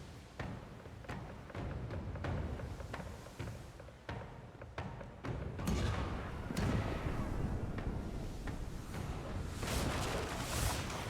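Starboard cannons of a ship fire in a naval battle in the Pillars of Eternity II video game, a series of sharp thuds and booms repeating irregularly, then heavier blasts over a rumbling bed of noise.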